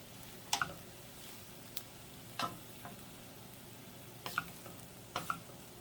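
Minced garlic cooking in a pan for veggie beef soup, heard as faint sizzling with a few sharp clicks and scrapes, quiet and sparse.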